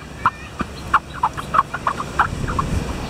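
The singing sand of Karon beach in Phuket squeaks under running feet: about a dozen short, high chirps in an irregular rhythm, fairly quiet over soft background hiss.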